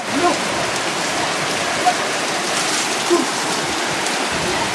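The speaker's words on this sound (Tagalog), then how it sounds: "Grabing lakas ng ulan dito." Heavy rain pours down during a typhoon, a dense, steady roar of water hitting surfaces with no break, loud and close, with a faint voice or two under it.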